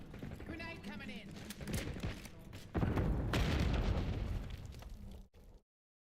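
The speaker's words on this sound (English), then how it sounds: "Grenade coming in." A grenade explodes in Black Ops 6 with a heavy boom and a burst of debris-like crackle, mixed among surrounding gunfire pops and dense battle noise before an abrupt cutoff.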